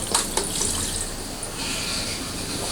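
Filtered water from a budget household water filter runs down into a storage tank with a steady, close splashing trickle that does not let up.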